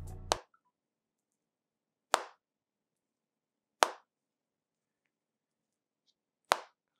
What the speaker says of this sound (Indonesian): Ini bunyi lipetannya juga enak.